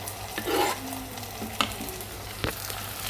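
Chopped tomatoes go into a pan of frying onions and garlic, giving a soft sizzle with a few stirring scrapes and knocks against the pan, close by and fairly quiet.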